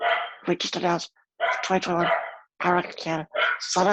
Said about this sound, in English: I guess that's my dog.